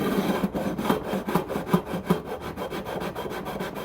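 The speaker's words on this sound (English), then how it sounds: "fret leveling file. It's also a sharpening stone, extra coarse. And start that way." An extra coarse sharpening stone file is rubbed back and forth along guitar frets while they are leveled, giving a steady, close rasping rhythm of about a dozen quick strokes.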